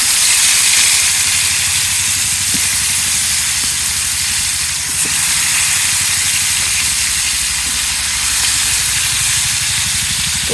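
Fish pieces frying in hot oil give a steady, loud hiss and sizzle that holds unbroken throughout, with a few faint clicks and pops rising now and then.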